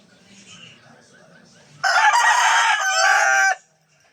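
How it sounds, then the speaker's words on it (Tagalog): A rooster crows loudly and close, one long drawn-out call after faint background murmur, then silence. "Yung manok muna sa kapitbahay"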